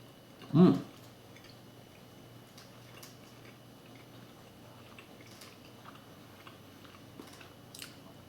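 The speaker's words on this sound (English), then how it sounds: "so let's actually take a bite" A single bite into a Jack in the Box grilled breakfast sandwich with cheese, bacon, ham and fried eggs, one short crunchy burst near the start, followed by faint quiet chewing and room tone.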